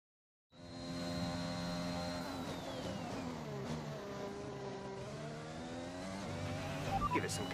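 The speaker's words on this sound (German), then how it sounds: "Jetzt müsste mein Motor haben, der ein bisschen knattert." A race car engine in a racing video game runs as a steady, buzzing drone with faint rattling and slight pitch shifts as the revs change, holding fairly constant throughout.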